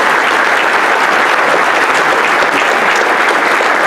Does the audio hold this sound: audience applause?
yes